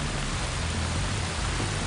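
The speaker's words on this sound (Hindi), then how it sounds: "झरने के शोर में आवाज सुनाई नहीं देती।" A dense, constant roar of rushing water fills everything evenly, loud and close, with no pauses or voices.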